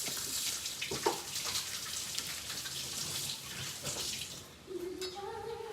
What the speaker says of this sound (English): I'm gonna wash the garlic off my hands.